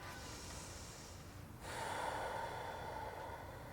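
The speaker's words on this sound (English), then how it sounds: "Slow, steady breath for 4." Slow, steady yoga breathing held during a split stretch: a soft airy exhale that shifts into a fuller, louder breath midway, close and continuous, with no talking.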